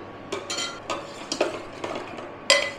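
Date palm jaggery is stirred into milk in a pot, giving a few close scraping and clinking spoon strokes at an uneven pace against a quiet background.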